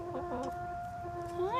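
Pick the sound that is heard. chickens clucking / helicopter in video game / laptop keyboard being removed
chickens clucking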